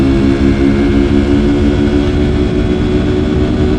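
A Honda XR150L motorcycle with big bore, cam and exhaust modifications runs near its 70 mph top speed, giving a loud, steady, close engine drone with a strong humming tone and no talk.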